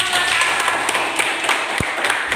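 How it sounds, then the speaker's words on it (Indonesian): A school mathematics class gives lively applause, a continuous, fairly loud patter of many hands clapping together that stays steady throughout. "beri tepuk tangan yang meriah"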